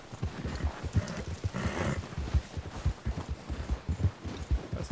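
A horse's hooves clip-clop steadily in Red Dead Redemption 2, with close, even footfalls at a walking pace under game ambience.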